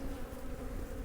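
Honeybees swarm loudly and close while hives are being split, a dense, steady drone with no break across the whole moment.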